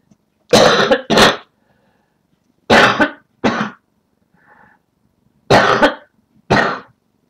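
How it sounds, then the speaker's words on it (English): A series of harsh, explosive coughs in pairs, three bursts of two, loud and close, with brief quiet gaps and a faint throat noise between. "I feel a coughing fit coming on"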